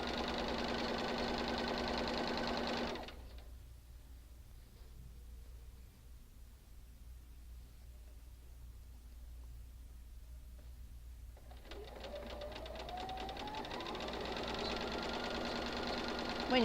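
A sewing machine chain-piecing quilt block fabric hums steadily up close, goes quiet for several seconds, then starts again and speeds up with a rising whir.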